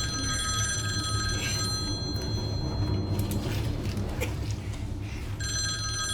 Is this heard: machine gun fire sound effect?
no